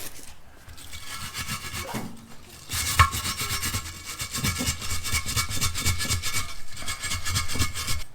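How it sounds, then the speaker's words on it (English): Wire brush scrubbing caked mud off a tyre bead, a steady rasping scrape that runs in rough strokes for several seconds. "Gonna need a wire brush for this."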